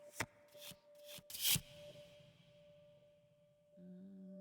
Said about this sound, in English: while I shuffle my deck